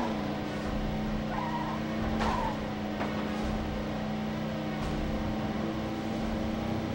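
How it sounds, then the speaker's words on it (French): A car in the 24 video game skids out of control, a steady engine drone with brief tire-squeal streaks over a constant mechanical hum, no talking. "à peine tu touches le stick dans une direction, la voiture elle part en cacahuète"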